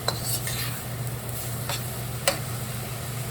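Shrimp and cauliflower stir-fried in a carbon steel wok: a steady sizzle under quick spatula scrapes, with a few sharp metallic clicks against the pan.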